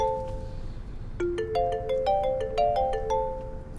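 A mobile phone plays a bright melodic ringtone, a rising run of clear electronic notes repeating close by over quiet room noise.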